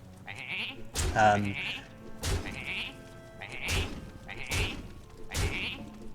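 Repeated sheep bleats from the Hearthstone card game, five or six loud cartoonish baas each opening with a thud-like hit, spaced about a second apart, with a voice speaking briefly.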